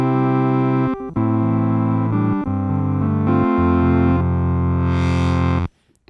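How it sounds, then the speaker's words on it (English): A Behringer DeepMind 12 synthesizer plays sustained, buzzy chords with an auto pan tremolo effect, the notes shifting in steps with brief dropouts before cutting off near the end. "We have an auto pan / tremolo here."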